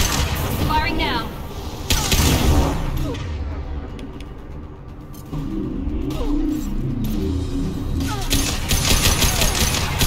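Gunfire in Mass Effect 2 Legendary Edition, a firefight with mercenaries near a shuttle: loud cracking shots and bursts mixed with engine rumble and other combat noise, while voices talk over it.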